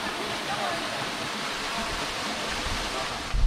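Black Rock Falls in Western Australia during the wet season, a steady, full roar of falling water heard close by and unbroken for the whole stretch, with no voices over it.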